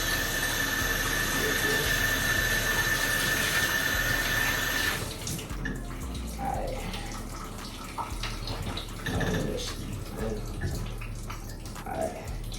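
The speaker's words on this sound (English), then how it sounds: "I'm finna rinse some of this soap off." Running tap water rinses soap off a pair of white shoes, a steady near rush for about five seconds that then gives way to quieter splashing, handling and scattered drips.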